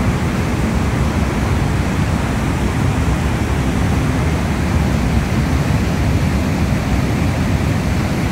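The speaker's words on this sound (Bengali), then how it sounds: "কত জল ছেড়েছে দেখেছো?" Huge volumes of water roar out through the giant gates of Maithon Dam in Jharkhand during the monsoon, a loud, dense, unbroken rushing noise with no speech.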